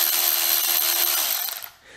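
A Milwaukee M12 cordless variable-speed ratchet whirs in a steady, close motor whine that holds level, then winds down and cuts off near the end.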